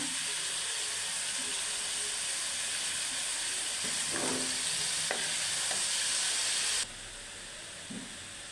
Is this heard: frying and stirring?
yes